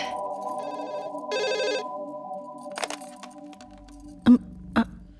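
A telephone bell rings in bursts in a quiet indoor home scene, fairly close and clear, followed by a couple of sharp knocks or clatters near the end.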